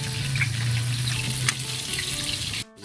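Eggplant sizzles steadily in hot oil in a frying pan, a loud continuous crackle close by that cuts off abruptly near the end.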